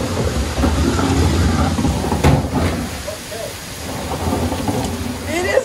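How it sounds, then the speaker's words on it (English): A huge thunderstorm rolls in with steady, heavy rain and a continuous low rumble of thunder, loud and close throughout, with no clear break. "It's a huge storm coming in."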